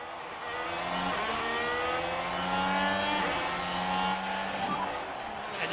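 Race cars in the F1 Manager video game surge away from the start of the Singapore Grand Prix, a dense, loud engine roar climbing in pitch as the field accelerates, with a voice talking over it.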